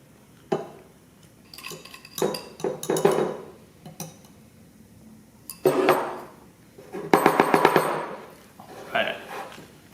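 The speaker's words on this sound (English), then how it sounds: "First, let's transfer it back to the mug." A spoon scrapes and clinks against a mug while snickerdoodle mug cake batter is transferred into it, in a series of sharp close knocks and scrapes with pauses between.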